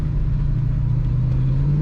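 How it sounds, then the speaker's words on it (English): A 1965 Ford Mustang Fastback 2+2 with automatic transmission runs with a steady, deep, low engine rumble close by, unbroken and without any talk. "Great sounding Mustang."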